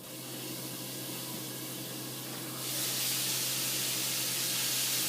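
Gluten free chicken drumsticks frying in hot oil, a steady loud hiss and sizzle that grows brighter and stronger midway, with no voices.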